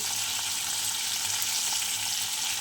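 Vegetables for a mixed vegetable curry fry in hot oil, including ridge gourd, potato, eggplant, pumpkin, long beans and pointed gourd. A loud, continuous, even sizzle hisses close by with no pauses.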